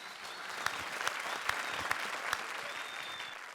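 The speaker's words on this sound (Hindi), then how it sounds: "तो एक बार जोरदार तालियां" Studio audience applause at a televised Hindi comedy show, a steady dense clapping wash with a few sharper claps standing out, continuous and fairly close throughout.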